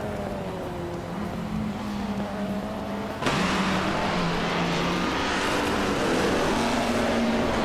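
A 1961 Ferrari 156 F1 racing car engine in a racing video game, a continuous buzzing drone that steps up abruptly partway through and holds loud and steady to the end, with no talking.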